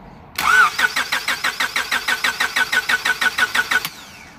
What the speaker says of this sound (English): let me crank the engine by pressing the power button